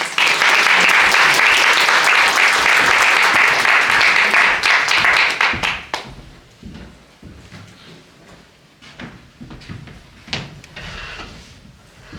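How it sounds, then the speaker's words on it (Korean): An audience at a Korean business talk event on AI transformation breaks into loud, dense applause for about six seconds, which then thins out into scattered claps and shuffling noise. "박수로 모시겠습니다."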